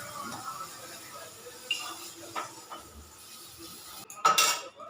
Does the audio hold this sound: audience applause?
no